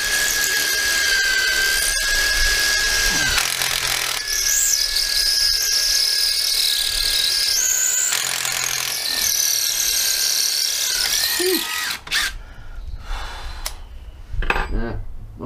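A 12V cordless drill drives a DeWalt bit in a close, loud whine that rises and sags under load over several seconds, then stops into a few clatters of handling.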